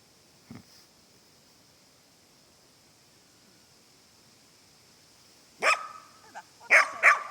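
A Lagotto Romagnolo barking outdoors during retrieve training: one faint short bark early on, then a quiet stretch, then several louder barks in quick succession near the end.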